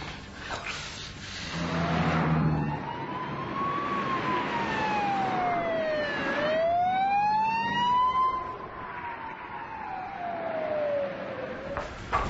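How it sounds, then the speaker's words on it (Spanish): An ambulance siren wails, rising and falling in long sweeps, loud and steady, with road rumble beneath and no talking. "Ya viene la ambulancia en camino"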